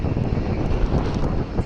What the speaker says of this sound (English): Another plane is taking off behind us.